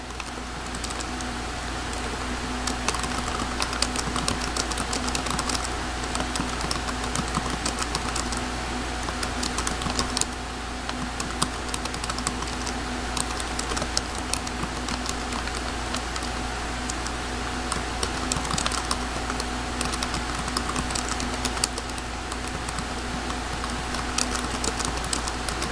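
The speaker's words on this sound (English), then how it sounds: "in it you type your description of the video" Light, rapid keystrokes patter on a computer keyboard at an irregular pace over a steady background hum, fairly quiet and close, with no voices.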